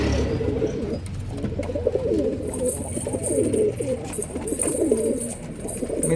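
Pigeons cooing close by in repeated low, throaty burbling calls over a soft background hum, with faint chirps and no talking.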